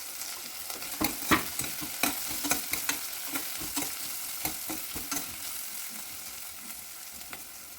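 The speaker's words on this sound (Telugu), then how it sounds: "పచ్చిమిర్చి ముక్కలు వేసుకుని కలుపుకోవాలి" Green chilies and ginger pieces sizzle in a pan while a spoon stirs them in short, irregular scrapes and clacks. Close, steady frying with no talk.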